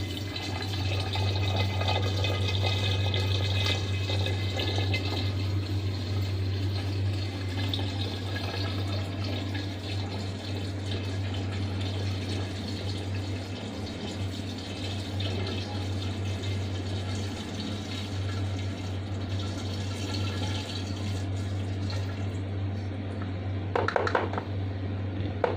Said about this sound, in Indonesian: kita masukkan gula yang sudah dilarutkan ya